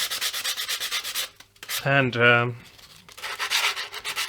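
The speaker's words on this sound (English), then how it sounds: "I'm just gonna give this a quick sanding with a little bit of sandpaper" Sandpaper is rubbed by hand across a wooden guitar headstock in a run of quick, close scratchy strokes, with a short pause in the middle where a voice briefly speaks.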